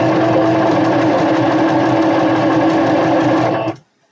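A sewing machine runs steadily while stitching a satin drawstring bag, a continuous loud mechanical whir with rapid needle clatter that holds for nearly four seconds, then stops abruptly into silence.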